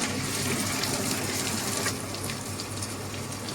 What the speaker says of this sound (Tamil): ஒரு கால் டம்ளர் தண்ணி சேர்த்துக்கலாம்